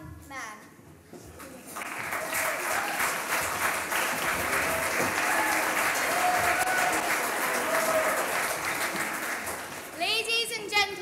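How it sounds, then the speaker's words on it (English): An audience at a 2019 primary school pantomime of The Emperor's New Clothes breaks into loud, sustained applause that swells and then fades, with a voice speaking just before and after the clapping. "A big round of applause for the shoeshine boy and the pie man."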